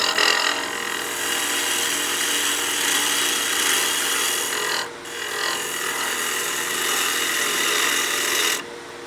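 Woodturning gouge cutting a wooden snowman oil candle on a lathe, a continuous loud scraping rasp with a slight chattering bounce over flat spots, briefly dropping twice as the tool lifts.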